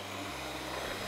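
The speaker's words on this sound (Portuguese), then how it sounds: "bora bater esse ovo com açúcar. Posso? Pode. Vou usar a batedeira aqui." An electric mixer beats three eggs with a cup of sugar, a steady whirring motor hum that is faint and continuous for a brief moment with no voices.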